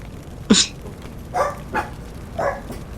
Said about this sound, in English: I hear dogs barking now